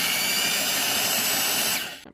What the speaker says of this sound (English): Drill, baby, drill.